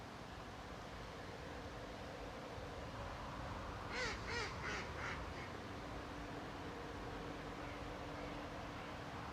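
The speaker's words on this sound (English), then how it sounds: "Here's a buzzard having a bit of an altercation with some crows." A short run of harsh caws from crows squabbling with a buzzard cuts through steady wind-like hiss, several calls in quick succession, distant and faint.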